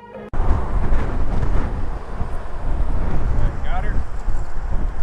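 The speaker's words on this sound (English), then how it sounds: "It's really windy today." Strong gusting wind roars across the microphone beside a roadside police stop of motorcyclists, a loud, continuous buffeting rumble that fills the clip after a brief quiet start.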